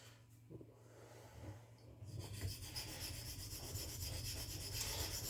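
A knife blade grinding against a sharpening stone or grinder, a steady rasping scrape that swells louder after the first couple of seconds and continues without pause.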